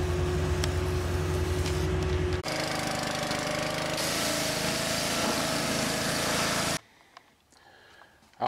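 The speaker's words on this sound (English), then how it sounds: "We got her pressure washed off, clean." A pressure washer sprays down a 1970 Ford Mustang, a loud, steady engine-driven roar with a hissing jet that runs continuously for several seconds, shifts in tone partway, then cuts out abruptly into near silence.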